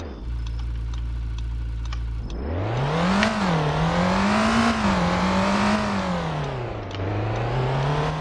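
Lamborghini Temerario in the video game Driving Empire launching from a steady idle, its engine note sweeping up and down through gear changes as it accelerates hard, loud and close with no talk over it.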